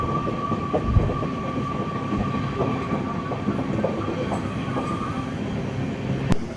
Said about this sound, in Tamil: 8:51 ரேணிகுண்டா ஜங்ஷனுக்கு வந்து ரீச் ஆகிட்டான் இந்த சப்தகிரி எக்ஸ்பிரஸ்